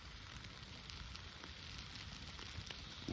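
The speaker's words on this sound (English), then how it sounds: "Some proper sizzle." Sausages sizzle on a charcoal grill with a faint, steady crackling hiss and occasional small pops, heard quietly and evenly throughout with no voices.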